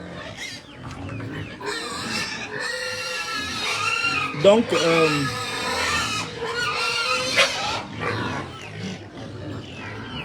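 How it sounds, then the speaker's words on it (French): Pigs grunt and squeal at close range over a farm setting, with a voice talking throughout and a few louder squeals standing out midway. "vous écoutez les porcs"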